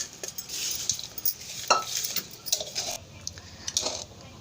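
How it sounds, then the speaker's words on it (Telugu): A spoon stirs hot tempering through tamarind rice (pulihora) in a pot, giving soft repeated scraping and clinking with faint sizzle, close and fairly quiet, with no one speaking. "మొత్తం పులిహోరలో వేసేసుకొని మొత్తం కలిపేసుకోవాలండి."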